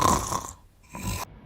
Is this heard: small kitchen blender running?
no